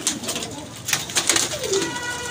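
Pigeons at a loft coo in soft, overlapping throaty bursts close by, several birds calling in irregular rhythm over a quiet background.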